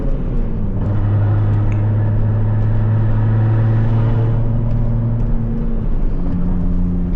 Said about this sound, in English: the car is a straight pipe exhaust, so no muffling devices after the turbo